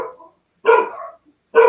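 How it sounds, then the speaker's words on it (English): A dog barks three times in short, separate bursts, loud and close, with silent gaps between the barks and no voices. "Got my dogs going"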